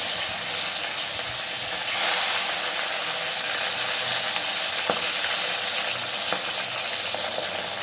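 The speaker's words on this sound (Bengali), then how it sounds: "এবার আমি নুন হলুদ মাখানো মাছগুলো আগে ভেজে নেব" Koi fish rubbed with salt and turmeric frying in hot oil, a loud, continuous close-up sizzle and hiss with occasional sharp crackles and pops, no talking.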